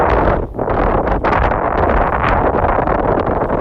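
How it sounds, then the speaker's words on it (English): Strong wind roars and buffets the microphone outdoors in Bay Ridge, Brooklyn, in continuous gusty rumbling, loud and close, with no voices. "You can probably hear the wind. It is very windy out here right now."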